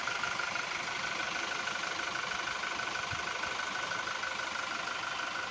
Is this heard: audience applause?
no